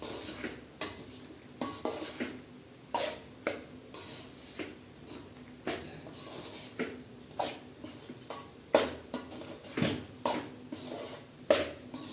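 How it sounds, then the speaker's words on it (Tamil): Macaroni pasta is stirred in a pan with a utensil, making repeated sharp clinks and scrapes against the metal in an uneven rhythm, close and fairly quiet between strokes. "இப்போ இந்த மக்ரோனி இதில் போட்டு நல்லா கிளறி விடணும்"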